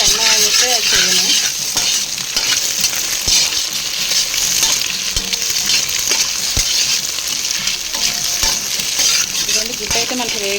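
An egg fries in a pan for fried rice, sizzling loudly and continuously while a utensil stirs and taps against the pan at irregular intervals.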